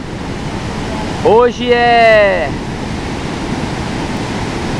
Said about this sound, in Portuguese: Nós estamos aqui na Cachoeira do Talhadão